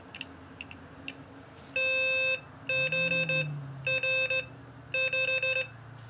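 A Morserino-32 CW decoder sends Morse code as crisp electronic tone bursts, four groups of clipped dits and dahs in quick rhythm, loud and close after a few faint clicks, with no talk.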